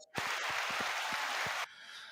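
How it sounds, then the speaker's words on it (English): Audience applause after a comedian's set at Pugs & Co, a dense burst of clapping that starts abruptly, holds steady and loud for about a second and a half, then cuts off, with a few low thumps underneath. "So a round of applause for that guy"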